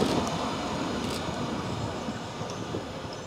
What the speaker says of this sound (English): So you think there's a steam train coming in a few it's minutes?